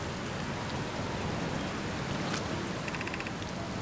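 Steady, even rain falls within the game Outer Wilds, a dense hiss of drops spread wide and constant from start to finish, with a few brief bright ticks near the end and no talking.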